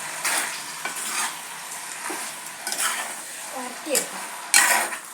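Onions being stirred and sautéed in a pan, a soft sizzle under repeated scraping and clinking of a spoon against the pan, with louder knocks near the end.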